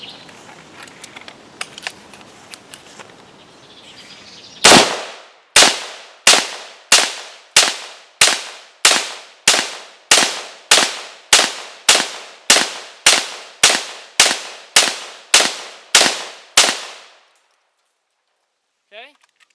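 AR-15 rifle firing 20 rounds of steel case ammunition in a steady semi-automatic cadence, each shot a loud, sharp crack at roughly even intervals after a brief quiet lead-in, ending with silence as the bolt locks back.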